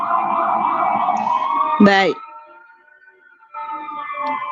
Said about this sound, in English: ignore the sirens. It's a very busy traffic.